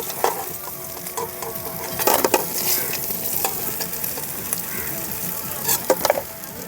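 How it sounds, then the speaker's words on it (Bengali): Fried katla fish heads sizzle loudly in hot oil as they are lifted out, with a spatula clattering and scraping against the pan at irregular moments. "মাছের মাথাগুলো খুব সুন্দর করে ভেজে নিয়েছি এখন তুলে নিচ্ছি বন্ধুরা"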